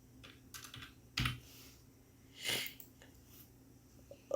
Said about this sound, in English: I'm gonna type 2016.